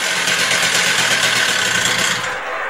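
A Stihl TS350 cut-off saw, freshly rebuilt, idles steadily nearby, its small two-stroke engine giving a loud, continuous buzzing drone that holds even throughout with no talk over it.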